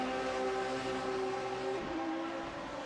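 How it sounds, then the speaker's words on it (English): V6 racing car engines drone in a continuous, steady tone during a sim race at Sepang circuit in Malaysia, with the pitch dropping sharply partway through as a car passes. "It's the sound of V6 engines here in Sepang"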